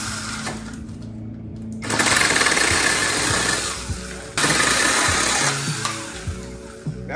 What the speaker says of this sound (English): I'm gonna use this saw that we just got.